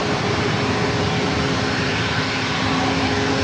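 A Southwest airliner passes near a San Diego police drone, producing a loud, steady broadband engine roar that holds constant throughout.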